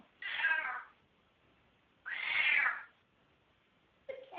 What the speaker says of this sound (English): Whose cat is that?